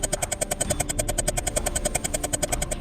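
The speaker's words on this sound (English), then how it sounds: "Let me turn the jet engines off so it's not just so loud." Loud, steady rhythmic roar of jet engines in the People Playground game, a rapid pulsing thrum running unbroken from start to end with no voices.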